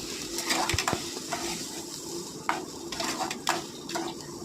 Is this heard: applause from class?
no